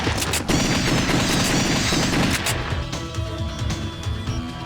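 Gunshots in The House of the Dead 2 arcade shooter, a dense, loud volley of rapid shots and clattering impacts that thins out toward the end.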